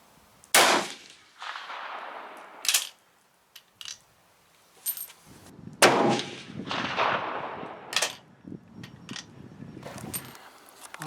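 GP-11 rounds fired through a chronograph at an outdoor range, with several sharp, loud gunshot reports spaced a few seconds apart and fading echoes after each, plus small clinks between shots.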